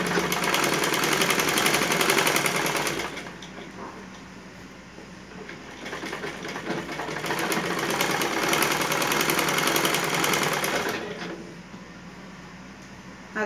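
Sewing machine stitching pant fabric in two loud bursts of fast, steady needle hum, separated by a quieter pause and followed by quiet again.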